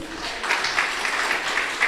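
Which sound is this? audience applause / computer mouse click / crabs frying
audience applause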